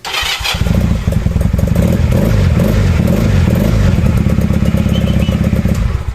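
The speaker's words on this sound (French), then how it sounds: "Ah, la moto." A motorcycle engine revs hard and close, a loud continuous throaty roar with rapid pulsing that kicks in after a brief clatter and holds steady to the end.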